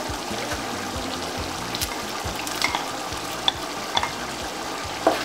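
Green and red peppers stirred into a simmering pot of egusi, a steady wet bubbling sizzle with soft spoon scrapes and a few clicks near the end, close and without talk.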